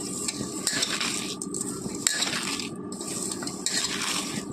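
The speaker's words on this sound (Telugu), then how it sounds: "ఉల్లిపాయల్లో నీరు వదిలేంత వరకు అలా కలుపుకోవాలి" Chopped onions being mixed by hand with salt, green chillies and curry leaves for onion pakoda batter, a close, wet squishing and rustling with soft clicks, repeating in rhythmic strokes.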